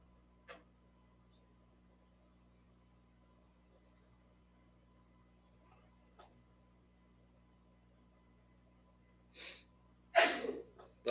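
A single nearby sneeze with a quick gasping inhale, heard alone against a quiet room hum after faint earlier sounds.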